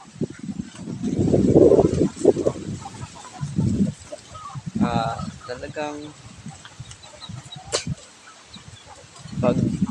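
Native chickens cluck nearby on a Palawan farm in short bursts, mixed with a person talking over them and some rustling outdoors.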